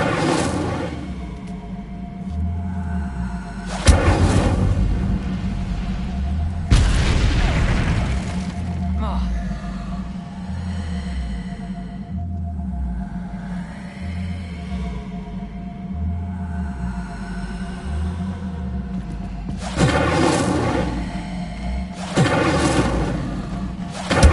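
An Incendio fire spell from a Harry Potter game bursts in with a heavy boom and roaring whoosh, repeated a few times over a looping low musical background, each blast loud and close.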